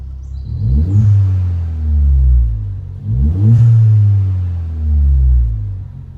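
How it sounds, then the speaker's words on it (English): A Ford Fiesta ST180 engine revs twice in quick succession after an induction hose install, each rise climbing and then easing back to a low idle, close and loud. "just give it a few revs"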